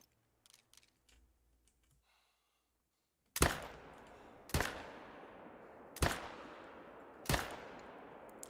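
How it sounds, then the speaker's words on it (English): Four loud rifle shots fired at a wolf in the hunting game theHunter: Call of the Wild, evenly spaced about a second apart, each with a sharp crack and a long rolling echo, after a few faint clicks and near silence. "We're gonna shoot it right there."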